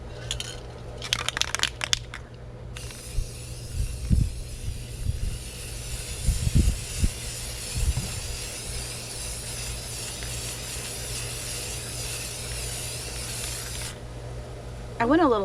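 An aerosol can sprays a matte clear enamel coat onto a water-slide-decorated tumbler in one long continuous hiss lasting about eleven seconds, preceded by short bursts and rattling handling knocks, then stopping with a final short spray.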